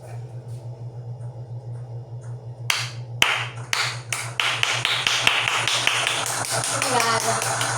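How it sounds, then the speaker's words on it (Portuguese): A smart speaker plays a clapping sound effect: a burst of many sharp claps builds into dense applause, loud and close over a steady low electrical hum. "Alexa, som de palmas."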